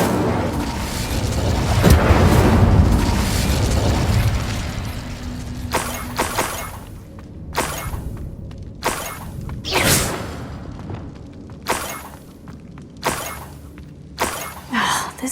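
A fire spell cast in the Hogwarts Legacy video game, a loud burst of whooshing flame and booms that gives way to a series of sharp, repeated impact bursts, with no talk over it.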